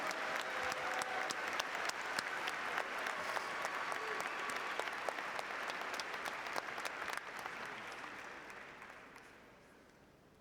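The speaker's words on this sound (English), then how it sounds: "Please offer another round of applause for our graduates receiving their master's" At a university graduation ceremony, a large audience applauds the master's degree graduates with long, even clapping that fills the hall before gradually thinning and fading away.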